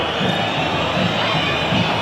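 Pureza football supporters during a penalty shootout, a loud wash of crowd noise with scattered shouts swelling and easing throughout.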